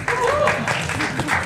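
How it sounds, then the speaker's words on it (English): Audience applause at an Indian Racing Festival League event, a brief burst of clapping from the crowd mixed with a voice speaking over it. "A round of applause for them."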